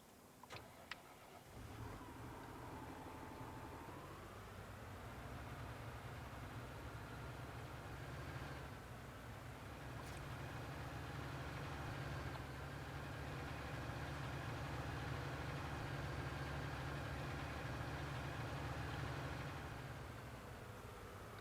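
A tiny tractor in Farming Simulator 19 starts up, then idles in a steady, low mechanical drone that holds evenly for a long stretch with no speech.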